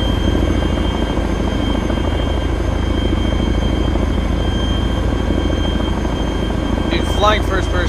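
A helicopter in the video game Arma 2 flies with a loud, steady rotor and engine drone that never lets up, and a voice briefly rises over it near the end.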